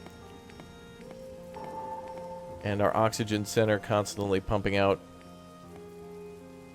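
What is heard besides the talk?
rain in the video game Oxygen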